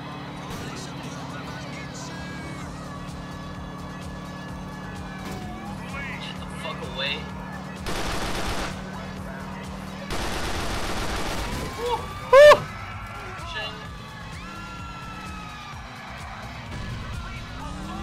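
Pipe bomb explosions and gunfire in the video game GTA Episodes From Liberty City, with bursts of blasts and shots over engine noise and sirens while a player talks throughout.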